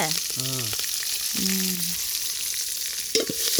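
Onions and garlic sautéing in a pan on a traditional stove, with a loud steady sizzle and stirring scrapes while brief voices speak over it.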